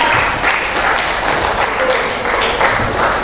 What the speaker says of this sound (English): help me to give a big applause to Hans.